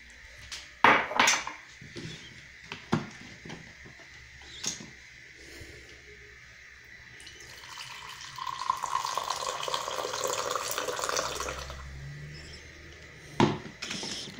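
Dishes and a coffee cup are handled at a kitchen counter for morning coffee, with sharp ceramic clinks and knocks scattered throughout and a stretch of running tap water midway, close by with no talk.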